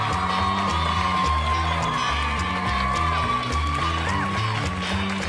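A comedy club audience cheers and whoops loudly and continuously at a stand-up show, with a steady roar of crowd noise over thumping background music.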